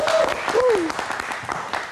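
Studio audience clapping for a singer on a live TV night show, a dense burst of hands under a host's voice, with a brief sung or spoken tone rising over the applause near the start.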